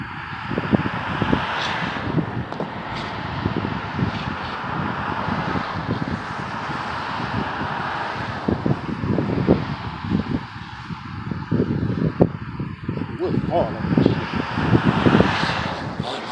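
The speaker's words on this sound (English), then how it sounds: "wind blowing, kind of trying to pick up" Wind blowing steadily outdoors at a snowy winter camp, a continuous rough rush with gusty buffeting against the microphone throughout, no voices.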